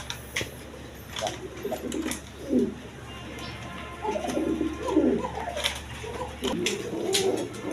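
A pair of Rasgolla pigeons coo in soft, repeated rolling bursts close by, several calls spread across the moment over a low steady background hum.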